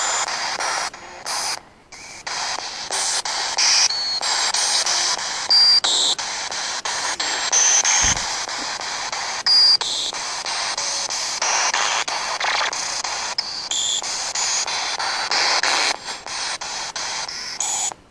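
Broadband radio static hisses steadily for about eighteen seconds in a dark, supposedly haunted wood, with short dropouts and faint whistling tones drifting in as the frequency is swept.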